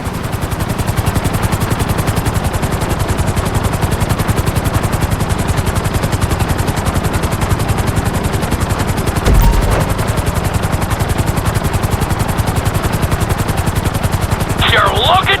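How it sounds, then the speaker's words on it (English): A helicopter flies in the video game GTA 5, its rotor producing a loud, steady rapid chopping throb that runs throughout, with a brief thump and a faint voice near the end. "we'll see how well you handle the chopper"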